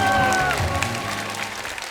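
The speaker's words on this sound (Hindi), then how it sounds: "जोरदार तालियां हो जाए अमीषा के लिए" Applause from a studio audience welcoming actress Ameesha Patel on stage, a dense wash of clapping under lingering musical tones that fade away, fairly steady over the short stretch.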